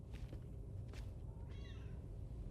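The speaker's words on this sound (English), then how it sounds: "Just sitting there petting a cat." A cat meows in Death Stranding 2, two short rising calls over a steady low game ambience, fairly close and moderately loud, with no talk.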